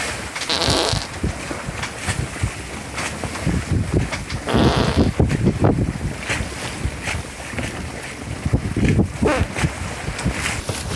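Gusty winter wind buffets a sailing boat at sea, a loud rushing roar with gusts swelling and easing, mixed with splashing water against the hull.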